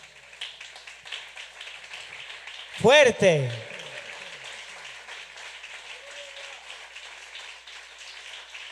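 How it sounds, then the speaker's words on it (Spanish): A church congregation applauds during a sermon, a dense, steady clatter of many hands that runs the whole time, with a voice calling out briefly over it. "ahora sí aplauda al Señor."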